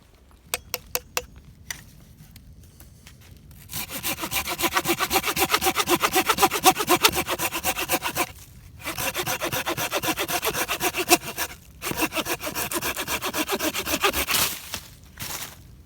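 A STIHL saw cuts through thick, fully dead wood. A few sharp taps come first, then long stretches of loud, rasping strokes that pause briefly twice before resuming, close and unvoiced.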